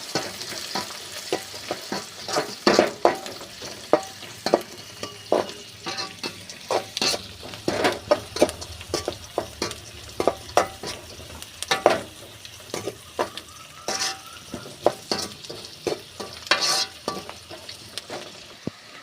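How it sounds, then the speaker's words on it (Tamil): Chopped onion fries in hot oil with a steady crackling sizzle, punctuated by frequent irregular scraping and clacking as a spoon stirs the pan. The sound stays close and fairly loud with no voices. "அடுத்தது வெங்காயம் போட்டுக்கலாம்ப்பா. நல்லா எண்ணெயில் வறுத்துக்கோங்க."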